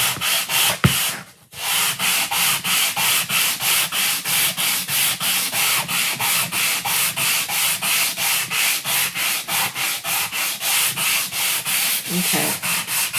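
Hand sanding a wooden riser produces a long run of rhythmic back-and-forth scratchy strokes, roughly three per second, close and steady, with a brief knock near the start and no speech.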